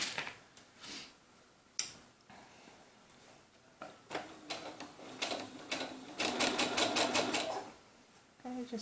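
A domestic sewing machine runs in short bursts and then longer rapid runs while stitching a doll's sunsuit, close and fairly loud with quiet pauses between the runs.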